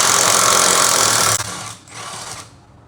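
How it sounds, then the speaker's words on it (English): An electric impact wrench with a 14mm short socket removes the lower control arm retaining bolt on a 2011 Mazda 3, giving a loud continuous whirring, hammering burst that cuts off, then a shorter, quieter run that fades. "Using the 14mm short socket with the electric impact wrench, remove the lower control arm retaining bolt."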